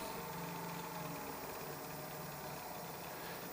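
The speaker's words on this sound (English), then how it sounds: "cut this off while the lathe is still running, just to show you what it will do" A wood lathe spins steadily at 900 RPM while a whiskey tumbler is parted off, a continuous close humming drone with faint tonal whine and no voices.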